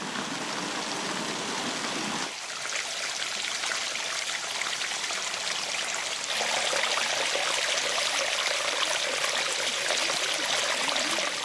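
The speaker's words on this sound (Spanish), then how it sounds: "La escalera del agua es un espacio de referencia en la jardinería islámica y tiene cualidades sensoriales únicas, porque uno está presenciando cómo corre el agua, la está oyendo" Water running down the channels of the Alhambra's water staircase, a steady close rushing and trickling flow that grows fuller and brighter partway through, continuous with no voices.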